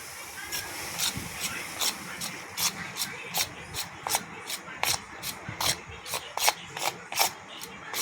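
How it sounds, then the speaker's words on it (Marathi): Hands rub ghee into samosa flour dough with a rhythmic series of dry, rasping scrapes, close and steady, each stroke repeating roughly twice a second with no talk over it. "आता इथे आपण तुपाचं जे मोहन घातलं होतं ते पिठाला छान चोळून घ्यायचं आहे"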